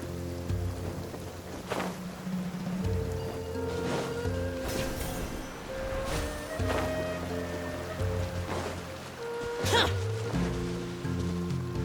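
Rain falling in the Genshin Impact game, a steady soft wash of drops heard under layered synth music, with a few brief louder splashes and swells.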